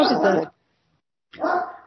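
A big dog lets out two loud, close barks separated by a short silence.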